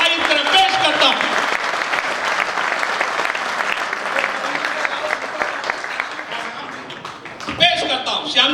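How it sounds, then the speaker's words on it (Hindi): Loud, sustained audience applause fills a poetry recital of patriotic verse, dense clapping from a large crowd that swells briefly near the end while voices are faintly mixed in. "तो जोरदार ताली में तारीफ करें"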